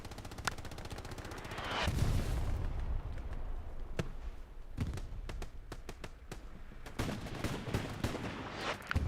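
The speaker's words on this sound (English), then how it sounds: "This is a German light tank that we can hear popping off." Repeated gunfire from a German light tank in the World War II shooter Hell Let Loose, with sharp reports at irregular intervals, a sustained rumbling burst early on and dense battle noise between the shots.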